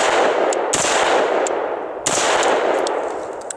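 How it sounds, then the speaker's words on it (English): Shots from a Bravo Company Manufacturing lightweight AR rifle fired with iron sights at a range: two sharp, loud reports about 1.3 seconds apart over steady broadband noise, with a few fainter clicks between. "Super easy to shoot this gun."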